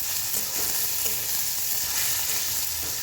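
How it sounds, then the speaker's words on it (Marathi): Thin potato slices fry in oil in a pan as they are stirred, making a dense, even, close sizzle that runs without a break and with no speech. "टाकू तेलामध्ये. तो बटाटा हलवून घेऊया."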